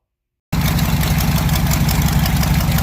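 A 1984 Chevy 6.2 diesel with hood stacks starts up abruptly and runs at a loud, close idle, a steady throbbing clatter with a metallic rattle and vibration throughout.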